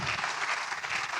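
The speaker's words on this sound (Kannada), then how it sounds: "ದಯಮಾಡಿ ಒಮ್ಮೆ ಚಪ್ಪಾಳೆ ಕೊಡಿ" Brief, fairly faint burst of audience clapping in a circular open-air theatre after a Yakshagana performance, an even wash of many hands.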